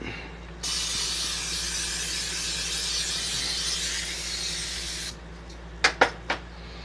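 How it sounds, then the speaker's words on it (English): A can of Walmart brand canola oil sprays onto a baking pan in one steady, loud hiss lasting about four and a half seconds. A few sharp clicks and knocks follow afterward. "I'm just going to coat it with some oil so it doesn't stick too hard"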